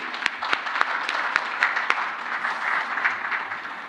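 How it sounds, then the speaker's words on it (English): A conference audience applauds steadily, a dense patter of clapping hands with a few sharper claps standing out, no voices over it. "I would invite you to give them a good round of applause"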